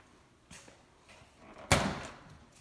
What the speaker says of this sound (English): When the outer boiler door is opened